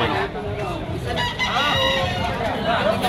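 A young rooster crows amid the bustle of a busy Malabon market, the call rising over steady crowd noise and nearby talk with some clucking.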